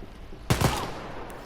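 A short burst of two or three rapid gunshots in the video game Wolfenstein: Youngblood rings out, then a lingering reverberant tail fades.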